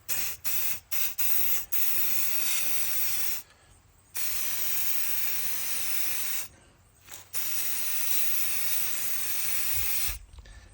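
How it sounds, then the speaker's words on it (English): Long bursts of steady aerosol hiss as graphite dry lubricant paint is sprayed on John Deere MaxEmerge planter parts, several short sprays first and then longer continuous ones, separated by brief pauses. "I'm going to spray paint them with a little bit of graphite dry lubricant paint."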